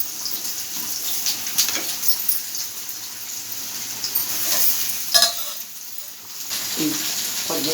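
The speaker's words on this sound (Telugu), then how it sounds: "నూనె కాగిన తర్వాత ముక్కలు వేసుకోండి." Ridge gourd pieces dropped into hot oil sizzle and fry steadily at close range, with occasional stirring and scraping in the pan and a brief louder crackle.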